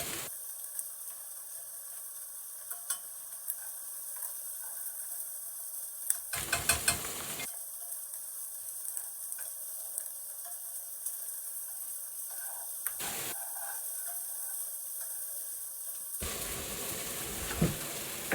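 Browned onions and minced steak fry in a pan in a home kitchen, making a continuous close-up sizzle broken by short gaps, with light stirring scrapes and small knocks.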